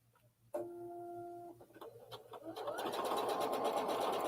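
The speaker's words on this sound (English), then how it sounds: "And then I am going to sew straight down here." Bernette B70 DECO combo sewing machine with the dual feed removed, running a straight stitch: a steady mechanical whir that starts with a tonal hum and then rises into a dense, rapid, buzzing clatter, close and fairly loud.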